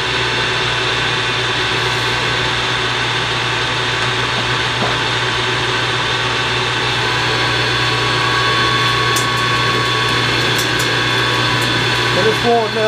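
A power tool whirs steadily as a gear is bored out in a workshop, a constant droning tone holding throughout under occasional talk.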